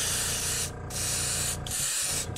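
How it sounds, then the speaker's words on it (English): An airbrush sprays Createx fluorescent green paint onto a fishing lure, a steady close hiss broken by three brief pauses as the trigger is released. "Get that spraying through real good."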